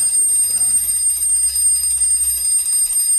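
An old mechanical alarm clock rings continuously, a loud, steady, high metallic bell rattle with no pauses.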